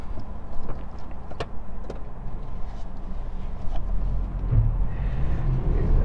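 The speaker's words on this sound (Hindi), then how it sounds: "तो आइए चलाते हैं सेंट्रो 2018।" Steady interior road noise from a 2018 Hyundai Santro with an 1100 cc engine on a test drive in India, a low continuous rumble with occasional light clicks and knocks, no speech.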